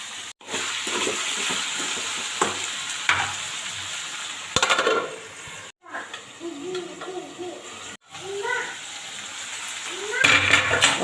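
Potatoes fry with salt in a covered pan, a steady sizzle and crackle broken by a few lid knocks and brief stirring scrapes, heard close up under a quiet voice.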